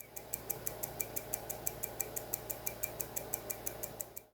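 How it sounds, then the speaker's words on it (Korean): The movement of a GEYA G78171 skeleton mechanical watch ticks steadily and evenly, several beats a second, faint and close-miked, with no speech over it. "이번엔 무브먼트 구동 소리입니다."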